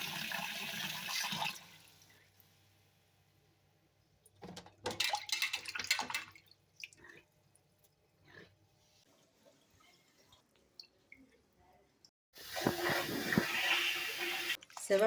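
Traditional black kavuni rice being washed in water, with splashing and swishing in bursts at the start, middle and end, separated by quieter gaps of faint handling.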